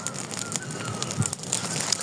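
A wood cooking fire in a village setting gives off sparse, sharp crackles and pops against a quiet outdoor background, with faint bird calls nearby.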